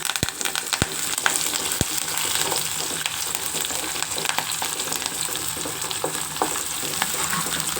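Curry leaves and garlic frying in hot oil in a pan for a Telugu sirraku mamidikaya pullagura, a dense continuous sizzle with crackles and a few sharp clicks from the pan, close and steady.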